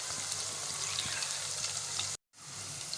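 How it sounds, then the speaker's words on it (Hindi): Onions frying in a pan on low flame for chicken liver (kaleji), a steady close crackling sizzle with faint stirring that drops out for a moment before resuming, with no voices. "हल्की आंच पे रखेंगे, तेज़ आंच पे प्याज जल जाएगी"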